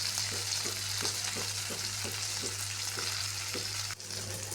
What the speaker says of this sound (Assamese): মাছকেইজনী অলপ মই ভাজি লৈছোঁ ইয়াতে।